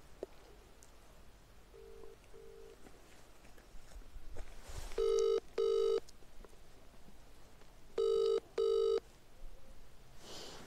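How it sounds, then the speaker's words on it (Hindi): A telephone rings out while a call is placed to a TTC manager, two paired ringback tones sounding twice beneath faint room noise, with no answer. "जस्ट फॉर प्रूफ मैं आपके सामने ही उसको कॉल करती हूँ"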